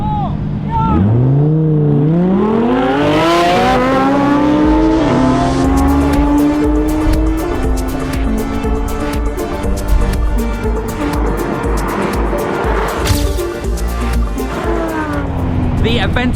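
Lamborghini Aventador SV and Aventador Performante Spider launching side by side in a drag race, V12 engines revving up through rising, gear-stepped roars with tire squeal, loud and close, then fading as the cars pull away.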